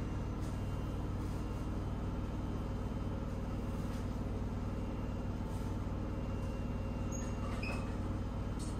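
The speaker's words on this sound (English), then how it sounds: "apologies if you can hear the dryer in the background" A clothes dryer runs in the background, a low, constant mechanical rumble and hum filling the room, steady and unchanging.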